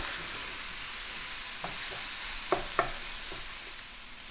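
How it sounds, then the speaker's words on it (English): Onion and garlic sautéing in a pan for sausage stuffed mushrooms, a steady bright hiss with a few sharp scrapes and taps of a utensil in the latter half; no voices. "Saute that until the onion starts to get soft."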